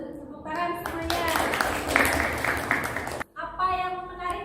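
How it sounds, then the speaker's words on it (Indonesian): Classroom students applauding during a biology lesson, a short burst of clapping of about two seconds between stretches of a voice speaking, close and moderately loud. "tepuk tangan semuanya"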